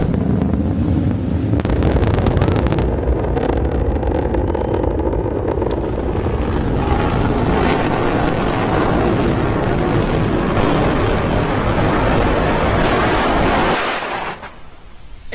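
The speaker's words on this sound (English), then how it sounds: "All 3 engines ignited." Three rocket booster engines firing as the booster comes in to land, a loud continuous roaring rumble that holds steady for several seconds before cutting off abruptly near the end.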